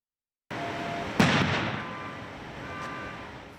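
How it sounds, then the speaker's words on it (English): A Tri-Cities regional SWAT team flashbang grenade goes off during a standoff in Kennewick, one sharp loud blast that rolls into a long fading echo over a constant background hiss. "that was a flashbang you heard from the Tri-Cities regional SWAT team"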